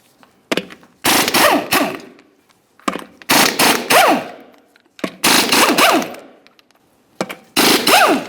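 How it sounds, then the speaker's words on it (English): Impact wrench bursts removing 22mm lug nuts from the wheel of a 2009 Dodge Dakota, five loud rattling bursts of about a second each separated by short pauses, close and alone. "Continue on to removing all 5 of our 22mm lug nuts and then the wheel."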